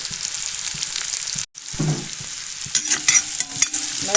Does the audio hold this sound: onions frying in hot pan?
yes